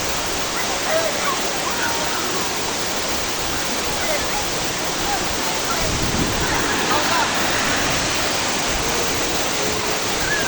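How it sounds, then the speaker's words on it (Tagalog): Tumalog Falls in Oslob, Cebu pours in a constant, full rushing roar of falling water at close range, steady throughout with a faint voice briefly under it. "Tumalog Falls, one of the famous tourist spot here in Cebu."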